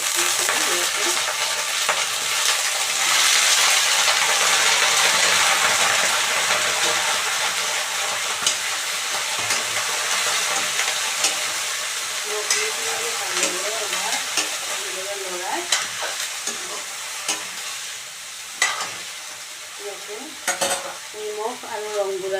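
Broccoli fries with onions in a pan, giving a strong, steady sizzle and hiss, with occasional scraping and stirring clatter as the frying continues for over twenty seconds.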